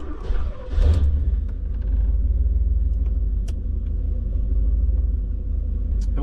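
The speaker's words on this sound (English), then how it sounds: "This is a cold start." A 1985 Porsche 928 S Euro V8 catches on a cold start with a brief cranking burst, then holds a deep, loud, steady idle rumble close by.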